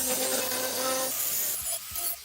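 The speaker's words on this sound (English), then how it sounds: "The painstaking work continues across the entire body, aggressively removing the last of the surface corrosion." Hand scraping and abrading of surface corrosion on the steel body of an old Daewoo Lanos car, a close, steady rasping rub that thins out and leaves a few softer strokes.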